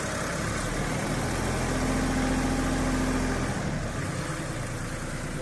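Mitsubishi MT241 4WD compact tractor engine running steadily at a near, constant drone, a steady rise in pitch midway as the throttle is opened, with no voices.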